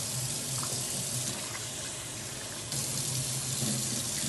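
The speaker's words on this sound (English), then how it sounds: "Just keep washing it until the water is clear." Running tap water pours into a bowl while rice is washed until the water runs clear, a loud steady gush with slight splashing changes, heard up close with no talking.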